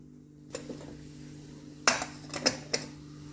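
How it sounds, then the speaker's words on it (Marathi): Lid of a pressure cooker holding boiled chickpeas being opened in a quiet kitchen: a few sharp metallic clanks and knocks, one loud near clack followed by lighter taps over a faint steady hum, no talking. "तर आता आपण कुकर उघडून बघूया"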